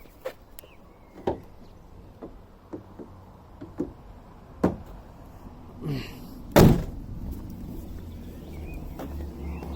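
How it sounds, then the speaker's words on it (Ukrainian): Scattered clicks and light knocks, then one heavy slam of a Volkswagen T5 bonnet shutting, followed by a low rumbling background. "Хочу закрити капот."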